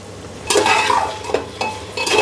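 Spices and tomatoes are stirred into fried onions in a pressure cooker, several firm scraping strokes of a spoon against the metal pot over a light frying hiss, close and fairly loud, with no talking.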